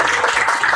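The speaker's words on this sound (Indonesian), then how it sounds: "Tepuk tangan dulu dong para kru." A studio crew claps briefly for a football talk show, a short burst of dense applause that stays steady and close under the room sound.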